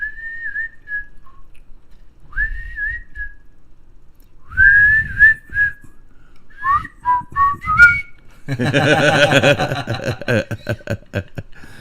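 Two people whistle a theme in harmony, a bright melody carried up close and loud, with short pauses, then a fuller stretch where the tune is joined by laughter.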